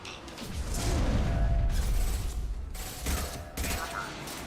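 A heavy metal shutter grinds and clanks shut aboard a ship in Mass Effect 2, with a sustained mechanical rumble and ratcheting over loud background combat noise.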